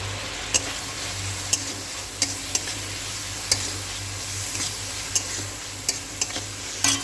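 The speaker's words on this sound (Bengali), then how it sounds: "তাহলে পেঁয়াজটা ভাজা হবে" Three medium chopped onions fry in a pan, giving a constant close sizzle with a low steady hum beneath and sharp clicks of a utensil now and then, with no speech.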